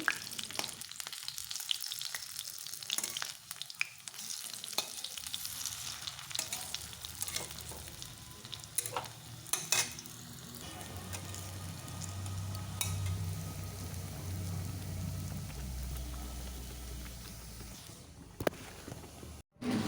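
Lentil fritters frying in oil, a long, fairly quiet crackling sizzle with intermittent clinks of utensils and a few kitchen movements, no voices.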